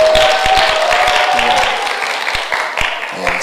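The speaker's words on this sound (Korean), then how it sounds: "박수를." Audience applause at a church gathering, a steady wash of clapping from many hands throughout, with some tapping and light crowd noise underneath.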